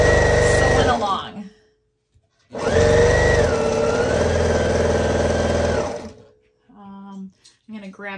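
A sewing machine stitches quilt blocks for a handprint quilt in loud, steady motorised runs, one brief burst then a longer sustained run, ending in a pause and some light handling noises.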